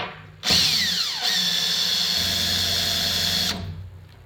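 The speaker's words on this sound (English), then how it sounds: "you can see how fast you can get some shavings with the drill bit" A power drill whirs up loudly and bites into a magnesium block, its pitch dipping under load, grinding steadily for about three seconds before spinning down.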